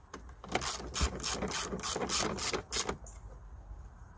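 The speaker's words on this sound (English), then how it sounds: "So we're going to use T20 bits to tighten these screws." A T20 bit turns screws on the air filter box of a BMW 320d E90 with the N47 engine, making a quick series of loud ratcheting clicks at close range followed by a quieter pause.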